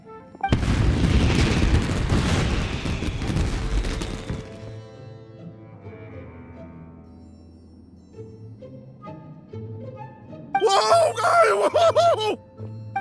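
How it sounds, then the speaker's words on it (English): Fireworks bursting in the video game Genshin Impact: a loud dense rumbling barrage of booms for about four seconds, then a quieter musical lull, and a second burst of crackling, whistling explosions near the end. "Yoimiya, this is turning into a bit of a fireworks display."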